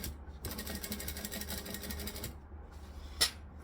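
A sewing machine top stitching a tea towel topper in reverse gives a quiet, steady rapid whirr for about two seconds, then stops, followed by a single sharp click nearby.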